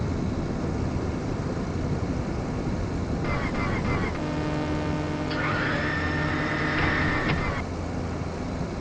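A small airplane taking off, its engine droning steadily under broad wind-like rush, with a rising tonal whine that comes and goes midway; a voice talks over it.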